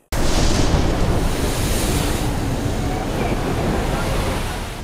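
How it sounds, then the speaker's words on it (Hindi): Strong winds from Cyclone Amphan striking West Bengal roar as a steady, loud, broadband rush, continuous and unbroken for the whole stretch with no voices over it. "तेज हवाएं"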